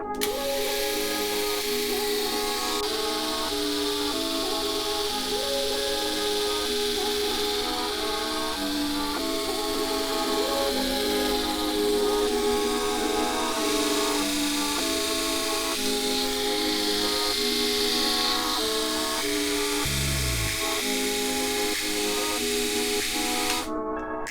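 A Braun Silk-epil 9 epilator runs at raised intensity with a loud, continuous, close buzzing whir that holds steady throughout, with one brief low thump near the end.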